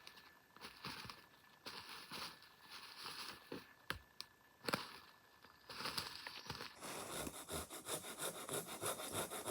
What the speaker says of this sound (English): it's got my saw from Sulik 46, and just gonna give this a good cut.